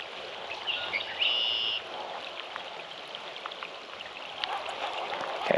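Rain falls near water during a fishing trip, a soft, steady patter of drops with faint chirps from birds and a distant bright tone early on.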